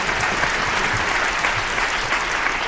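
An audience at a school writers' week event applauds a group on stage, with steady, dense clapping from a crowd, close and fairly loud, continuing without a break.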